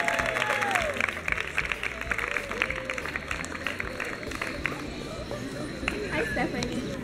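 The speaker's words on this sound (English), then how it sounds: "Let's give a round of applause as we come." An audience at a sweet 16 party applauds with dense, steady clapping throughout, mixed with chatter and voices.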